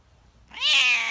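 A single drawn-out cat meow rises in pitch and holds steady, close and fairly loud after a short quiet lead-in.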